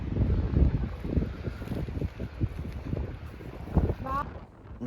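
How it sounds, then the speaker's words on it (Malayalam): Strong wind gusts through Ballinastoe woods in Ireland, roaring and buffeting close to the microphone in uneven bursts, with a voice speaking briefly near the end. "നല്ല രീതിക്ക് കാറ്റടിക്കുന്നുണ്ട്"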